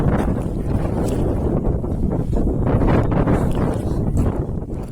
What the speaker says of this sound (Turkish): Baya bir rüzgar çıktı.